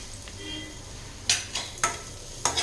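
A spoon stirs ground chana dal paste with onion and green chilli in hot oil for beetroot poriyal. Several sharp scraping strokes sound against the pan over a faint, soft sizzle.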